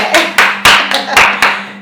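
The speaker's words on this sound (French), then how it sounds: "Ça s'applaudit, on est d'accord?" Applause at a French live show: a short run of about six crisp, separate hand claps, close and evenly paced, over a faint steady hum.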